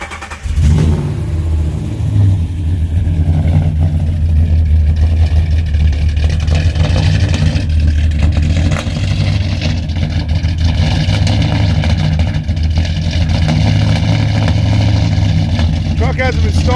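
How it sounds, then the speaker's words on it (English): A Ram truck with exhaust cutouts cold-starts after sitting about a week, catching with a loud bark, then settling into a heavy, rumbling idle that stays loud and close for the rest of the clip. "we're going to get a cold start with the cutouts"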